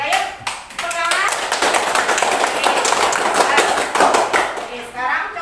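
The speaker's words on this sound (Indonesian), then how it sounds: "Ayo, tepuk tangan" Children clapping their hands in a classroom, a loud, fairly even burst of many small hands lasting several seconds, with children's voices mixed in and someone speaking over it.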